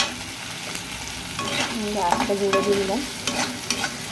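Chopped onions and green chillies with salt fry in a pan, a continuous soft sizzle with scraping stirs, while someone briefly speaks over it.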